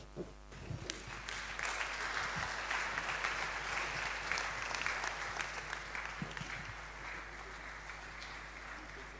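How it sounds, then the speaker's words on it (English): An audience claps in a steady, sustained round at a church-hosted conference, the applause fairly distant and even throughout with a faint murmur beneath. "give another round of applause to our professor"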